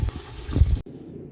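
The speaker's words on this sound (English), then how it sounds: "So you want to pour these cloudy water away." Cloudy rice-washing water poured out of a pot into a sink, a short close gush of splashing liquid that cuts off abruptly into quiet.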